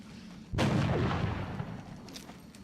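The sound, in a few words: weapon shot in video game XCOM: Enemy Within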